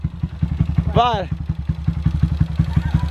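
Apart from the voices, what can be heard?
Honda Titan 160 motorcycle engine revving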